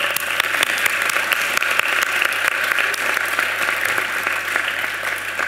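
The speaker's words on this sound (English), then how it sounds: "So a round of applause to them as well." Sustained applause from an audience at a university student union awards ceremony, dense and even throughout, with a few louder individual claps standing out near the front.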